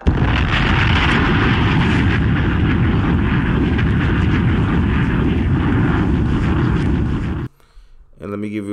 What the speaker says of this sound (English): let me drop that bomb